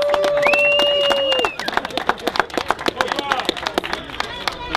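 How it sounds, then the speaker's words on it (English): Scattered crowd clapping and cheering for competition winners rise after a pair of sustained whistle-like tones, with sharp individual claps popping out near the microphone and voices mixed in. "Let's give them a big round of applause"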